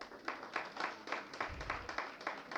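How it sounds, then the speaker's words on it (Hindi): Scattered audience clapping at an indoor industry awards event, a fairly quiet, loose patter of hands with a soft low thump partway through. "इनके लिए ताली बजाइए।"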